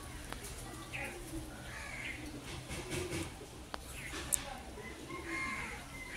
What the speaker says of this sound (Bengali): দেখুন এখানে পাখি আছে